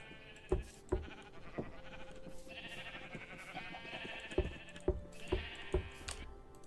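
Sheep bleat repeatedly in the video game Everwor, a series of sharp calls at irregular intervals over a busy, layered game soundscape with a steady background hum.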